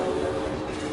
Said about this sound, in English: I'm gonna speed this up and get this train moving.